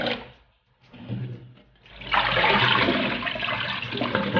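Running water from a tap pours over beef being washed for bulalo, first a few splashy trickles, then a strong steady gush close by.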